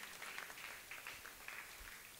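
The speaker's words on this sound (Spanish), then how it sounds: "Dale un fuerte aplauso al Rey." A church congregation at a Spanish-language Messianic service applauds: faint, distant, continuous clapping that swells in soft waves for a couple of seconds, with no voice over it.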